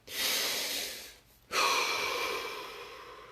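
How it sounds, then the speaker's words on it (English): Two deep breaths taken during a guided relaxation exercise, a long breathy inhale followed by a longer airy exhale after a brief pause, close and fairly soft with no talking. "Deep breath."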